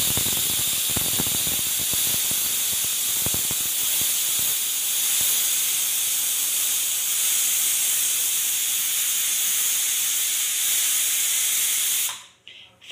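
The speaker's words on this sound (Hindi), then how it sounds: "यहाँ पे प्रेशर कुकर में पहली सीटी आ चुकी है हाई फ्लेम के ऊपर" A pressure cooker lets out its first whistle on high flame while cooking lauki dopyaza: a loud, steady, hissing steam jet runs unbroken for about twelve seconds, then cuts off abruptly.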